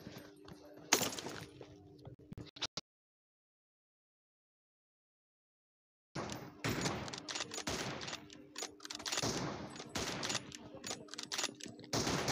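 Rapid bursts of video game gunfire ring out in clusters, then stop for a few seconds of dead silence before heavier, denser volleys resume, loud and close throughout.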